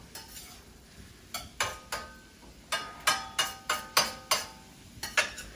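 Cumin and turmeric being stirred with butter and olive oil in a pan: a run of sharp, regular scraping strokes, about a dozen, with faint sizzling underneath and no voices.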